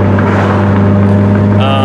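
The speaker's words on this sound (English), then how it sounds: "you can definitely tell Vtec's engaging there" A Honda engine running a P28 ECU with VTEC wiring revs high as VTEC engages, a loud steady tone that climbs near the end; a voice talks over it.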